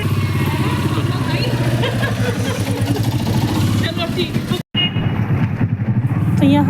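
A motorcycle rides along a village road, its engine running steadily and loudly close by throughout, with a brief dropout partway before the engine noise resumes.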